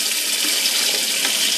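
Tap water runs in a steady, loud, close hiss as raisins are rinsed under the faucet, with no pauses and no talk.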